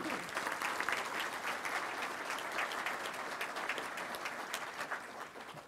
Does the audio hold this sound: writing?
no